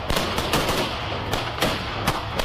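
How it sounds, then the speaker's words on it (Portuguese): Gunfire echoes through the streets of Port-au-Prince, Haiti, in rapid repeated cracks over a steady noisy background, with sharper shots standing out at irregular intervals. "o que mais se ouvem são tiros"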